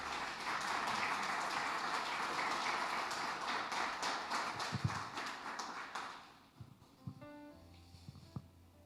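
A church congregation applauds through a Spanish-language service, dense clapping that fills the first six seconds and then fades out. A few scattered claps and small knocks follow in a quieter room.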